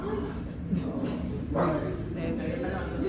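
A dog barks and yips in short bursts during a church sermon, sitting under steady room noise and murmuring voices.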